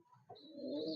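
Tournament racing pigeons coo softly and close by, giving a short low murmuring call with a faint chirp above it in a quiet setting.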